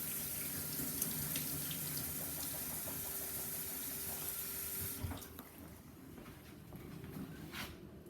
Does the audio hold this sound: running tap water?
yes